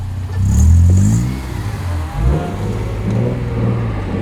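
Car engine revving and accelerating at street level ahead of drifting donuts, a loud low growl rising and falling over about four seconds, close by and heard alone.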